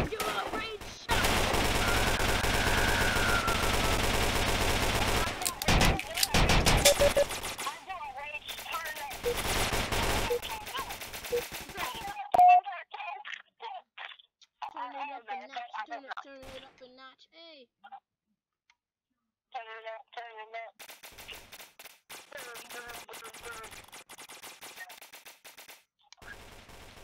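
Rapid bursts of automatic gunfire from a Roblox shooting game, loud and dense for the first dozen seconds, then sparser shots and game sounds trailing off with gaps of near silence.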